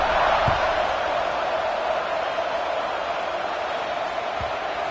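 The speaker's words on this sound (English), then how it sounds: "this crowd is buzzing after that last score" A football stadium crowd buzzes steadily after a score ahead of a kickoff, a dense, continuous roar of many voices filling the space, with a couple of faint low thumps beneath.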